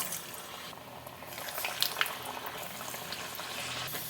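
Ragi vada deep-frying in hot oil gives a soft, continuous bubbling sizzle with small crackles and pops, fairly quiet and close, with no talking.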